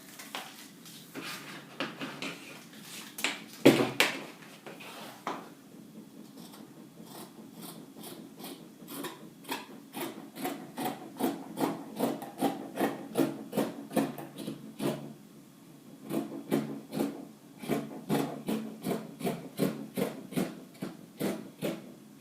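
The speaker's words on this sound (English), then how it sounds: "So I'm going to cut it now." Scissors cutting through fabric for a wrap dress, heard as a close run of crisp, rhythmic snips that is sparse at first and then speeds into quick, even repeated cuts, with no talking.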